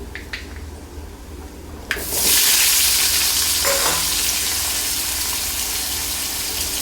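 Cut potatoes drop into hot oil in a pan with seasoning, and a loud sudden burst of sizzling follows and then settles into a strong steady fry, close by and without speech.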